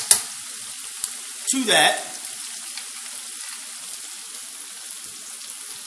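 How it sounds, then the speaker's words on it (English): Ginger, fruit preserves, lemon zest and garlic caramelize in a pan with a soft, faint sizzle. A few sharp utensil knocks and a short swell come early, and a voice speaks briefly. "the ginger, the preserves, and all that is caramelizing on the pan there."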